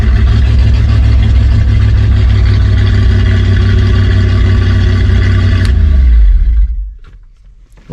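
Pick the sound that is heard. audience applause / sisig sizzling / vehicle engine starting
vehicle engine starting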